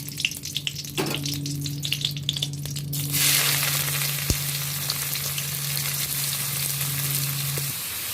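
Sliced onion hits hot oil already seasoned with cracked cardamom and two bay leaves in a kadai, bursting into a loud, steady sizzle that swells after a few seconds and holds close and continuous with a low hum beneath.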